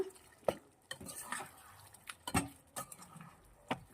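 Chicken curry with masala paste stirred in a pot, giving irregular scraping and clinking of a spoon against the metal, several sharp knocks spread across the stretch with soft background noise and no talking.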